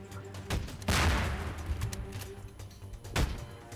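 Heavy ship cannon blasts boom out in the pirate game Pirate Ship Wars, two or three loud shots spaced apart with rumbling between them, no voices.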